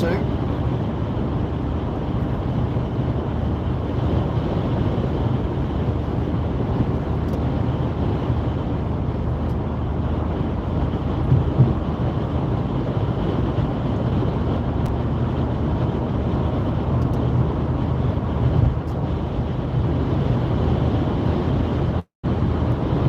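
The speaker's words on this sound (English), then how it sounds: "This wind is ridiculous." Strong wind from Storm Jocelyn buffets a car driving at night on UK roads from Stalybridge toward Wigan, making a steady, loud broadband rumble of wind and road noise that hardly varies throughout.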